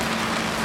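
Heavy downpour in Cambridge, New Zealand, around 50 mm in an hour, with ditches overflowing and guttering failing; a loud, dense, continuous roar of rain on surfaces.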